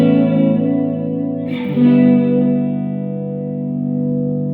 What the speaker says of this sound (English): I don't tend to think country when I hear slapback delay